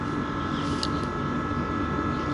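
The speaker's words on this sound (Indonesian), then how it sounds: "Ini nanti saya mau nyalakan mesin" A 2008 Yamaha Jupiter Z motorcycle under restoration, its engine running with a steady, continuous drone that holds at an even level throughout, close by, with no talking.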